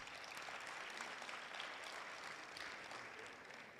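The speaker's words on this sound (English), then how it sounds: "Let us give him another round of applause." Sustained applause from an audience at a student council inauguration ceremony, a dense, even roar of clapping heard from a distance that continues without a break.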